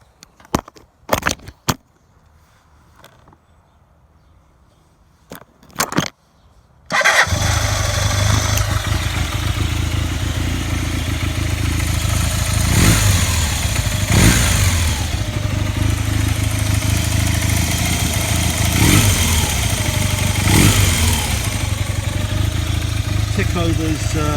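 1981 Honda Superdream 400N motorcycle after restoration, fitted with two new spark plugs and on full choke, starts after a few clicks and bursts of cranking, then settles into a steady, close idle.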